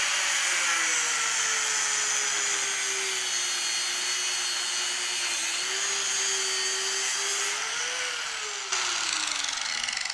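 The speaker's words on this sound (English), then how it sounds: "Take a thin cut-off wheel, cut down your electrical tape." A thin cut-off wheel slices through wraps of electrical tape on an AN fitting line with a high, steady whine. The pitch wavers and dips as the load changes, then drops sharply near the end.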